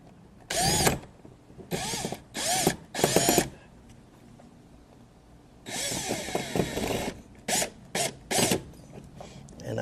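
Power driver sinking a screw on a Hobie Compass kayak, loud short whirring bursts repeated with pauses between, close up, then a longer sustained run followed by a few quick bursts.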